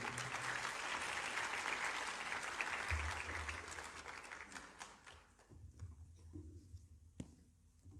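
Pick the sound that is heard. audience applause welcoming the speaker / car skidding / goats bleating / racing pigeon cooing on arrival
audience applause welcoming the speaker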